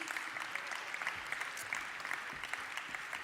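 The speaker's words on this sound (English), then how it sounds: "Can we give her a round of applause, please?" Conference audience applause for a panelist at a global labour conference, a soft, fairly distant patter of many hands clapping, steady and faint throughout.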